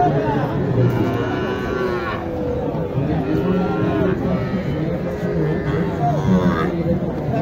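Cattle low at a busy rural cattle market, with several drawn-out moos rising over a constant crowd hubbub and close-by talking.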